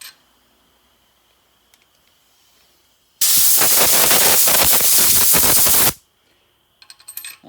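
A loud, close burst of compressed air blasts debris off freshly chased head bolt threads on a 1951 Buick Special engine, a steady hiss lasting under three seconds, followed by faint clinking.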